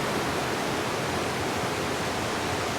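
A waterfall in the video game The Last of Us Part II rushes as a dense, steady broadband roar, loud and unbroken throughout.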